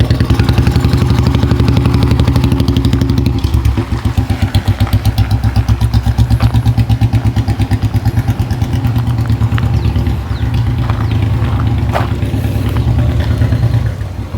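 A restored vintage Royal Enfield Bullet 350 runs steadily and loud nearby, its single-cylinder thump beating in a continuous rhythm with some clatter for the whole stretch.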